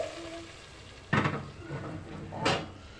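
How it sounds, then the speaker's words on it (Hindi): Browned onions in a tadka for urad dal gosht sizzle with a steady frying hiss, broken by two loud bursts as the hot fat hits the pot, close up and with no talking. "अब हमारे इसको तड़का लगाएंगे इसमें।"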